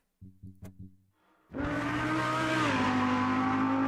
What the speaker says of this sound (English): Oh yeah, and the Lamborghini sounds really good.